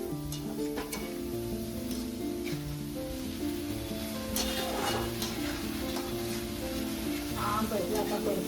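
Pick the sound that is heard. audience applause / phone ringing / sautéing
sautéing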